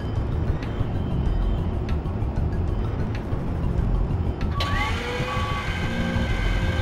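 Forklift in the Shenmue video game with a steady engine drone, then a series of tonal reversing beeps starting partway through and repeating over the rumble.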